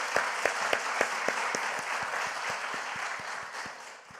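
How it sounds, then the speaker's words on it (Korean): A church congregation applauds in thanks at an autumn revival service, a dense, steady wash of many hands clapping close by. It fades toward the end. "우리 이 하나님께 감사의 박수 한번 올려드리겠습니다."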